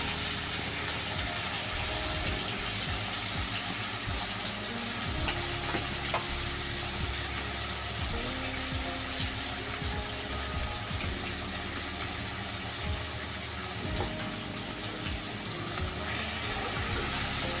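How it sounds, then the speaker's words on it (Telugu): Amaranth leaves fry with turmeric and salt in a pan, a constant close sizzle broken by intermittent scraping and clattering from stirring. "రెండు నిమిషాలు వేయించుకుందాము"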